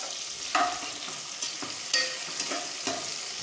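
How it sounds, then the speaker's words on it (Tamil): Vegetables sauté over full heat in a pan for cauliflower soup, giving a constant close sizzle broken by several soft stirring scrapes. No one speaks. "இது கொஞ்ச நேரம் வதங்கணும். அப்படியே அடுப்பை ஃபுல்லாக தான் வச்சுக்கணும்."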